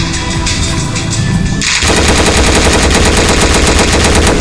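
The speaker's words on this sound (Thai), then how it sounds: "เราจะมาทดลองเสียงแล้วก็ ยิงที่ตัวกันก่อน ยิงที่ตัวดาเมจ15ครับ" Rapid gunfire from a weapon in the ROACH map video game, shots striking an enemy's body; a steadier burst starts partway through and runs on as a dense, loud, continuous stream of evenly spaced cracks.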